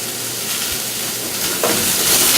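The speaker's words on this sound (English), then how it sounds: "You hear that nice sizzle?" Scallops searing in a hot pan give a loud, close, steady sizzle that swells into a brighter hiss toward the end, with no talking.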